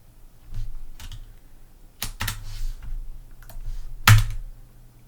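Keys on a computer keyboard are pressed in short irregular bursts, with close, sharp clicks and a few louder taps over a low steady hum.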